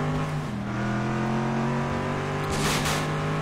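A racing car engine in the video game FlatOut 2 drones steadily at high revs, loud and continuous, with a short burst of rushing noise near the end.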